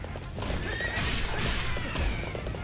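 A horse in the video game Hyrule Warriors whinnies loudly over steady clip-clopping hooves and game sounds, with no talk.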